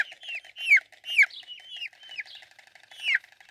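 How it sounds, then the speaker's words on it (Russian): Dark Brahma chicks cheep in a rapid series of high, sliding peeps, several overlapping near at hand with soft lower clucks underneath and no voices. "А сегодня смотрим цыплят брамы темной"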